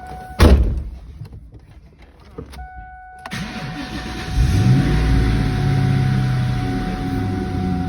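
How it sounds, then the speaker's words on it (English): An old Cobra fitted with new spark plugs and a Pertronix coil, running on an old battery, cranks briefly on its starter after a door clunk, then catches and settles into a loud, steady, rumbling idle close by. "let's go ahead and see if she'll start with this old battery"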